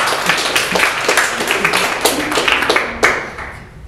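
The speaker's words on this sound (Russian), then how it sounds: "Закончим тогда этот вопрос аплодисментами." Audience applause at a stand-up comedy show, a room of people clapping loudly and steadily close by, then thinning out and fading toward the end.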